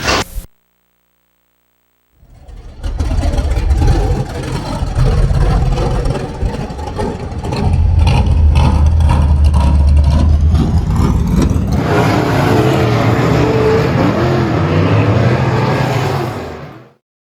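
Home-built race car engine, loud and close, idling roughly then revving up hard in repeated bursts, with a sustained high-rpm roar in the second half before cutting off; no talk.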